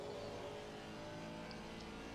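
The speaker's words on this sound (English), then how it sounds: "The GT4 car that's coming up behind you, Bungs, you are not racing for position." Race car engine in the Assetto Corsa Competizione sim at Silverstone, a steady droning engine hum with faint whir, no talk over it.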